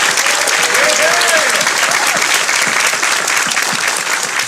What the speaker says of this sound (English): let's go ahead and give a round of applause for everyone for participating